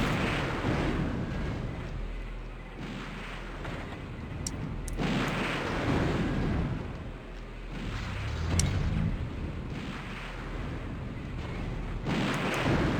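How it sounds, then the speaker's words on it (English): Missiles fired against a large mech-like boss in a Dreamcast action game demo: a run of loud booming explosions and launch bursts, several heavy blasts rising and fading over rumbling noise, with no talk. "Shooting missile."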